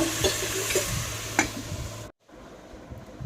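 Mutton curry being stirred in a pot, a steady scraping and clinking of a spoon against the metal with gentle sizzling underneath, close and fairly loud, then a brief drop to near silence near the end.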